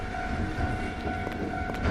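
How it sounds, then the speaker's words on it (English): A train passing a railroad crossing in a Kamakura horror game, a steady loud rumble of rail cars with a sustained tonal ringing and faint clanks throughout, no voices. "the train goes by."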